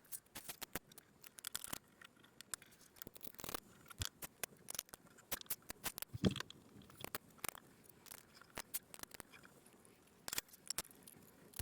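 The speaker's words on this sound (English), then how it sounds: "we'll speed run through the rest of the washers and nuts" Small metal washers and nuts are fitted onto a Keeley guitar pedal, giving quiet, close, irregular clicks and taps scattered throughout with no talking.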